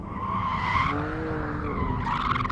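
A BMW M3 oversteers on a race track, its tires squealing and skidding in long wavering screeches over the engine's drone, close and loud with no talk.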